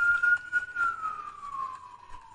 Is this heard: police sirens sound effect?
yes